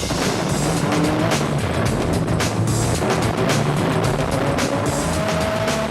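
A Castrol Toyota Hilux rally car races hard on a dusty off-road course in the Magalies 400, with a loud, continuous engine roar, shifting revs and rattling, gravelly road noise close by.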